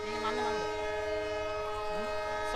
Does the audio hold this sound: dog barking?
no